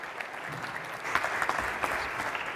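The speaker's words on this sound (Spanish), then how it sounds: "Un aplauso para ellos dos." An audience at a business event applauds steadily, with clapping that grows a little louder partway through and sparse individual claps standing out near the listener.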